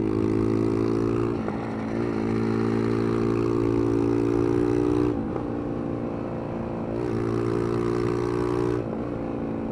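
Chinese motorcycle under way, its engine holding a steady hum with a few brief dips and gear changes, near and continuous, with wind noise over the top.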